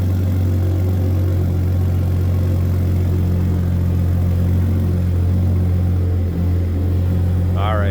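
A 2022 Ford F-150 Raptor sits idling with a steady, low engine drone and a constant hum. A brief voice comes in near the end.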